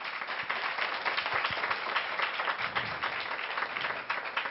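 A church congregation claps together, a dense continuous patter of many hands that stays steady and fairly loud throughout, with no speech over it.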